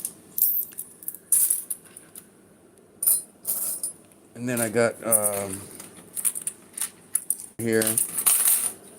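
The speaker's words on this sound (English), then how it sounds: "I'm separating my coppers from my brass-looking ones" Copper and brass-coloured coins are sorted by hand, clinking and dropping in repeated bright metallic jingles close up, while a person talks at times.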